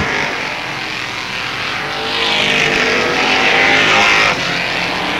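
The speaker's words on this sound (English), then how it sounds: "Jim Lambert is challenging Al High for third at the 7-lap mark of the 15-lap race." Stock race cars roar around a speedway during a 15-lap season-opening race at Avilla Motor Speedway, a dense continuous engine drone that swells louder midway as the pack passes close, then eases back.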